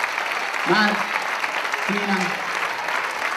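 A crowd applauds keyboard students at a music school's end-of-year showcase, steady and loud, while a voice over the clapping calls out a name.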